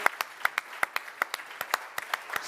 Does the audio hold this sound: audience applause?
yes